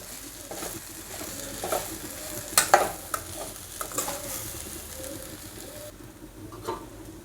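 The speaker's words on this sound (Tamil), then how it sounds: "ஒரு 2 நிமிஷம் போல் சிம்மில் வச்சு வதக்கி எடுத்துக்கலாம்" Raw banana puttu with salt and asafoetida is sautéed in a pan over a low flame, giving soft intermittent stirring scrapes and taps over a faint, gentle sizzle.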